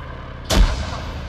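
A single frag grenade explosion in the video game Arma 3 detonates with a sudden loud boom and fades into a rumbling tail, with no voices.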